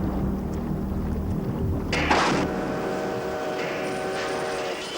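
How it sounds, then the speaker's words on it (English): A goods train whistle sounds in the 1989 model series TUGS: a sudden loud burst of noise gives way to a steady, sustained whistle tone held for several seconds over a low rumble. "Oh, no! I know that whistle!"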